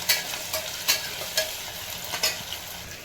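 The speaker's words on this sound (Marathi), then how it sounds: "मिक्स केल्यानंतर ह्याच्यामध्ये अद्रक आणि लसूणची पेस्ट टाकायची आणि परत एकदा व्यवस्थित सगळं मिक्स करून घ्यायचं." Ginger garlic paste is mixed into cooking lentil rice, a spoon striking and scraping the pot in regular strokes roughly every half second over a steady sizzle.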